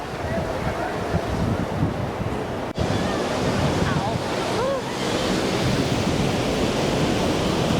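Steady roar of surf breaking along Copacabana Beach in Rio de Janeiro, with wind buffeting the microphone throughout and a brief dropout near the middle.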